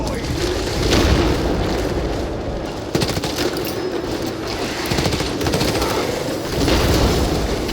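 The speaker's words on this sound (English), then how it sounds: "Crack grenade deployed." A crack grenade goes off amid dense gunfire and explosions in the Warhammer 40k game Space Marine 2, with loud booms and bursts of shots layered over a constant roar of combat and a voice speaking.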